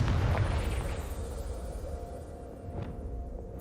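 A Confringo fire spell goes off in Hogwarts Legacy, a loud booming burst at the start that trails into rumbling debris and a fading roar, with a small pop near the end.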